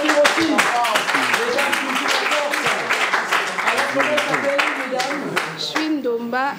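Audience clapping and applause for the all-female Kivwata team on a televised school quiz show, a dense, continuous patter with raised voices mixed in, sustained throughout.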